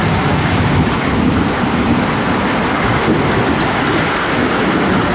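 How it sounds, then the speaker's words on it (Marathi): Rolling thunder over steady, heavy rain pours down on a Konkan road near Rajapur, a loud unbroken roar of downpour with no voices. "गडगडतोय पाऊस जबरदस्त."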